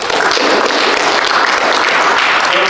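Audience members at a DevSpace 2018 conference talk give the volunteers a round of applause, a brief, loud, even wash of clapping from a crowd with no pauses.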